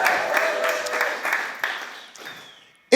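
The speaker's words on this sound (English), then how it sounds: "And the crowd goes wild." A live audience applauds and cheers at a sprint race event, a dense, sustained wash of clapping that gradually fades over a few seconds before a sharp burst at the very end.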